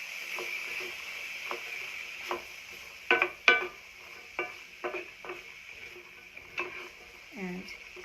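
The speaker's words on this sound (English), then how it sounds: "So here are the drained beans. I'm going to put them into" Drained beans going into a skillet and being stirred, heard as quiet scattered scrapes and clinks with a soft sizzle beneath, ending in a brief low thud.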